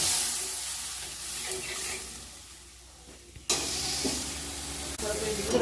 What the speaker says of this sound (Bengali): জল না দিলে মশলাটা ভালো কষা হবে না।